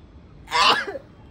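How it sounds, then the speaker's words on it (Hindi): A single sharp sneeze bursts out close by, brief and forceful, against quiet background noise. "सूंघ ना उसे, तभी तो आएगी छींक।"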